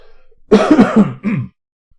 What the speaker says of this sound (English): Excuse my coughing and spluttering.